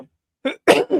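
A person coughs in three quick, close bursts, the last two loudest and back to back, heard near and alone after a brief earlier sound.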